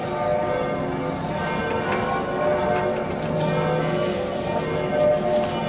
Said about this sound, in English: bells from the cathedral.